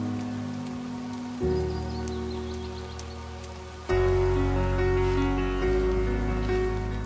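Steady rain falling, a dense hiss of drops on surfaces that grows heavier partway through, with a low continuous rumble underneath and no voices.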